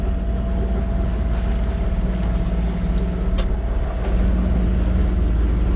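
A sailboat's diesel engine runs on test in calm, windless conditions, giving a steady, loud low drone with a faint wash of water and no talking.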